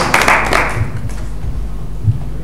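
Conference audience applauding a speaker coming on stage at an international business event: a brief burst of clapping, loud at first and fading quickly, with a low room hum underneath.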